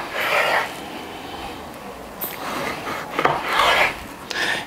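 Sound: cutting pork ribs into portions

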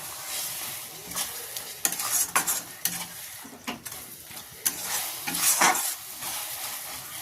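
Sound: stirring and frying pea ghugni masala in a kadai

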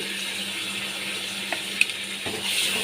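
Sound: stirring turmeric into frying ridge gourd and potatoes

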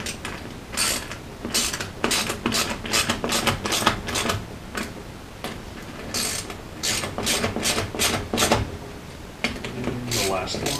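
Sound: tightening screws on a joystick mod panel

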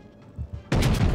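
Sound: naval gunfire from destroyer Benson in World of Warships video game

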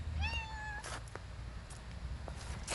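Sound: stray cat meowing

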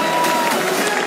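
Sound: applause from arena crowd

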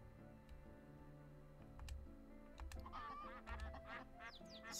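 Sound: ducks and chickens in video game My Time at Portia

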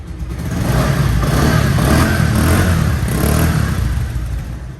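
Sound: second-hand motorcycle engine started and running

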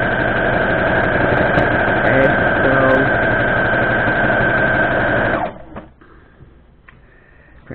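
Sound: sewing machine stitching a quilt border

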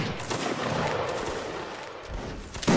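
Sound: musket line firing a volley in a video game

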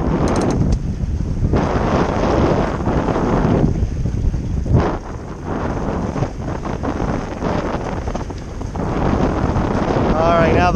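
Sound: wind blowing on a boat while sailing

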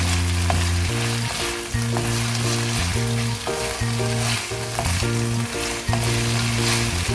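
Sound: stir-frying potato strips with green onion

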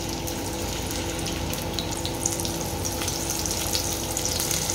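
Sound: chopped onion frying in oil for chicken rassa

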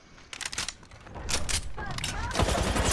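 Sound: gunfire in the video game Apex Legends

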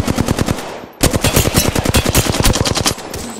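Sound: gunfire in Apex Legends video game

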